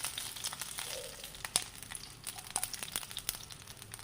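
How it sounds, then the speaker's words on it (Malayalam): Dried red chillies fry in a little oil with mustard seeds for a masala, giving soft, quiet crackling and scattered sharp pops over a low sizzle. "വറ്റൽ മുളക് ഇട്ട് കൊടുക്കാം."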